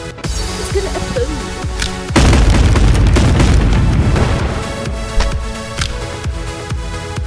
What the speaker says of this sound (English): It's gonna explode.